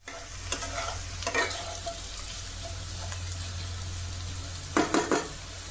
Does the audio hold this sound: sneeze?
no